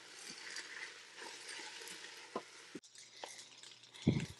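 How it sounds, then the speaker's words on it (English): Fried rice with SPAM, oyster sauce and sesame oil is stirred in a Ninja Foodi cooker: a faint sizzle under a few scattered clicks and spoon scrapes, ending in a louder knock. "And we're just going to give this a stir."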